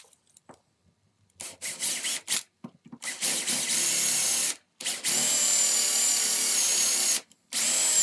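A hand drill bores in bursts, starting with short stuttering grinds that build into long, steady, harsh whirring runs broken by brief pauses, close and moderately loud.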